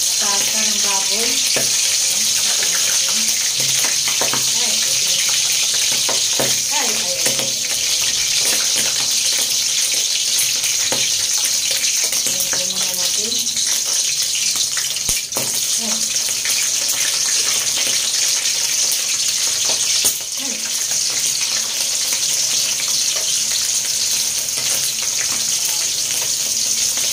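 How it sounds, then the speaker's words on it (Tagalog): Boiled pork leg (pata ng baboy) fries in a pan with a continuous loud hiss and crackling sizzle throughout, steady and close, with occasional faint clinks. "Piprito na po natin yung ating binalian."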